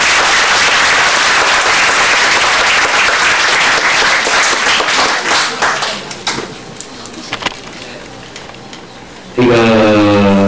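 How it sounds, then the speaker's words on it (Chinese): Students at a high school lecture applaud a visiting judge and professor with loud, dense clapping that lasts about six seconds, then thins out and fades, and a voice begins just at the end. "我们想今天请同学的话，再一次以最热烈的掌声啊，"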